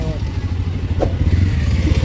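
A motorcycle being parked in a village lot, its engine idling close by with a low, steady putter while people talk nearby.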